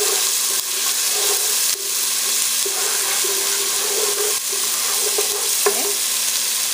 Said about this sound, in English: when you fry your garlic and ginger in the oil.